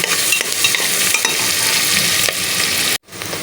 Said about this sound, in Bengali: এখন এটার মধ্যে আমি পেঁয়াজ দিয়ে দিচ্ছি। পেঁয়াজটা আমি একটু ভেজে নিব।